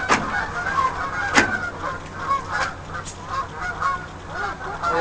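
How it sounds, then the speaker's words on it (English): Canada geese honk outdoors in a loose series of loud, nasal calls, some overlapping, with a few sharper honks standing out from the flock. "Canadian geese."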